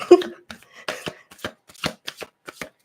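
A deck of cards shuffled in several quick riffling bursts, close and crisp, with brief pauses between each burst.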